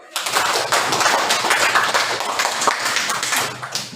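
Students in a classroom break into a burst of lively applause, many hands clapping quickly and unevenly for a few seconds before the clapping thins out.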